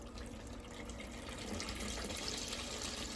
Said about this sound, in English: So we're going to put the water inside.